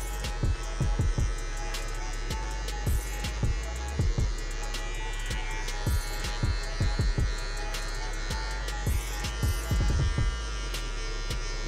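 Electric hair clipper fitted with a number 1 guard, lever open, buzzing steadily up close while cutting hair in curved strokes, with frequent clicks and taps of the blade against the head.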